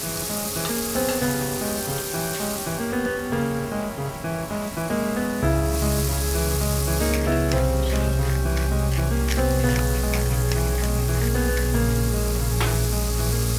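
Fish sizzling and frying in a pot as it begins cooking for bouillabaisse, a steady crackling hiss that grows fuller midway, with occasional sharp pops and no voices.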